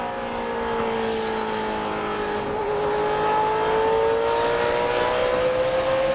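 NASCAR stock cars race at the 2004 Chevy American Revolution 400. Engines scream in a sustained drone, pitch climbing steadily as a car accelerates off the turn, loud and near.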